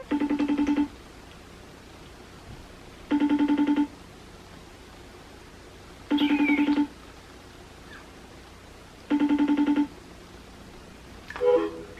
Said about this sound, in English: George is ringing me.